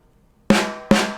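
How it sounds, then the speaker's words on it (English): Two sharp snare drum hits with the snares engaged, each a crisp crack with a buzzy rattling decay, about half a second apart, close and clear with no talking. "with the snares on, it"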